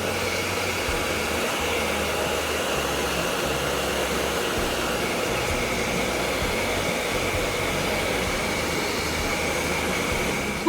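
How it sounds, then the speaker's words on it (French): A hair dryer set to hot blows continuously at a steady pitch, held about 30 cm from painted fabric, loud and close, with no pauses. "utilisez alors un sèche-cheveux réglé sur chaud en le maintenant à environ 30 cm"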